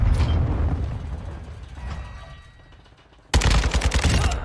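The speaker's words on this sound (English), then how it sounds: "Changing mag." A magazine change on a Kastov 762 rifle in a Call of Duty multiplayer match: mechanical clicks and rattles over fading gunfire, then a sudden burst of loud rapid shots near the end, no speech.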